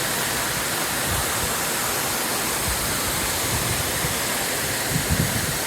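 Los Chorros waterfall in Grecia, Costa Rica, a loud, dense, unbroken roar of falling water heard up close.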